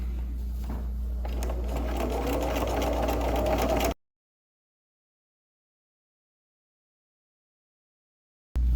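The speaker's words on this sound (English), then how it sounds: "now I'm going to sew this correctly and sew these pieces to each other" Sewing machine stitching tulip quilt block pieces together runs as a steady mechanical whir for about four seconds, then stops abruptly into silence before a brief restart.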